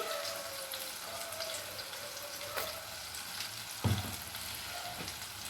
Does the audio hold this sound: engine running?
no